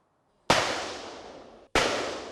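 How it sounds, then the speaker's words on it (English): Two sharp gunshots at a jungle warfare school's training village, about a second apart, each a loud crack followed by a long echoing decay. "Gunshots ringing out at the jungle village inside the jungle warfare school"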